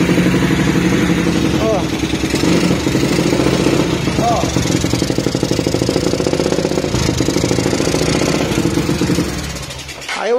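Heavily soiled carbureted motorcycle engine with electric start running with a rapid, rough, pulsing beat throughout, loud and close, with a brief vocal exclamation partway through before it cuts off near the end.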